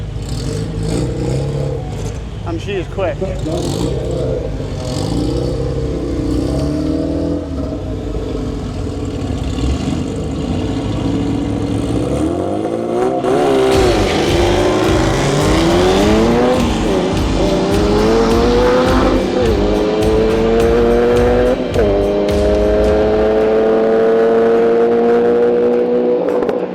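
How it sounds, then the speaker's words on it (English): Mini drag car with a turbocharged Honda K20 engine launching at a drag strip, rear wheels spinning; loud rising revs and gear changes with a brief tire squeal, and a short spoken line near the middle. "Notice the rear wheel spinning. This is not your average Mini. This has a turbo K20 Honda engine in"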